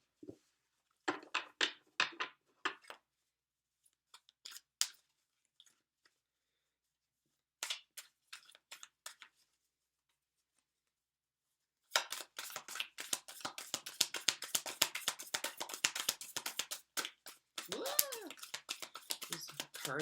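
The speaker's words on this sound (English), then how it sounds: "These cards are harder to shuffle." Bursts of rapid papery riffling, like cards being shuffled, starting and stopping, then a longer busy stretch of flicking and tapping near the end.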